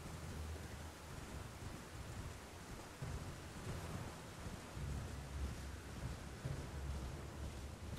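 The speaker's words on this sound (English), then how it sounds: "That was a quick downpour." In the video game Elden Ring, a rainstorm pours steadily, with low thunder rumbling underneath, a constant broad wash of rain with no talk.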